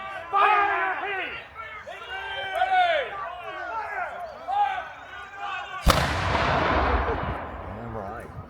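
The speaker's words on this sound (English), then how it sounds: "Mr. Caswell, you may fire." Officers shout commands at a historical battle reenactment before a single loud musket and cannon volley booms out, its blast ringing and decaying over several seconds.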